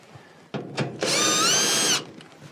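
A power drill gives two short blips, then runs for about a second with a high whine as it backs out a 1/4-inch screw from a Whirlpool dryer blower housing, up close.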